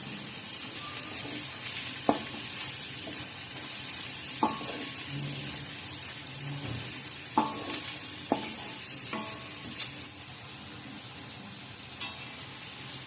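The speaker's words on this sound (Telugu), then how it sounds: "ఇప్పుడు దీంట్లో 1/2 స్పూన్ పసుపు వేసుకొని మిక్స్ చేయాలి." Sprouts frying in a pan with half a spoon of turmeric being stirred in, a steady sizzle under irregular spatula scrapes and taps against the pan, close and moderately loud, with no talking.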